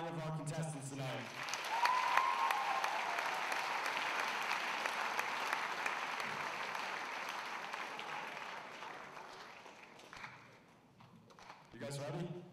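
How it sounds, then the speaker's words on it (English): Sustained applause from an audience at the Mr West Essex 2023 pageant for the contestants, a steady wash of clapping that swells early, holds for several seconds, thins out, and briefly picks up again at the end. "I want one more round of applause for all nine of our contestants tonight."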